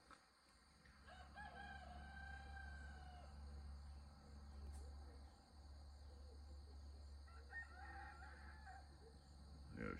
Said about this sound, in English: Roosters are crowing.